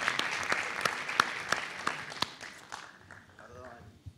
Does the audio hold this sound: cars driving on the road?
no